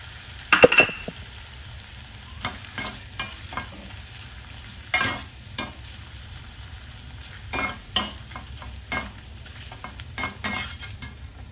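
Grated potato shreds frying in hot oil for a fasting-day sabudana chivda, with an intermittent sizzle punctuated by sharp scrapes and stirs of a utensil against the pan, moderately close and without talk.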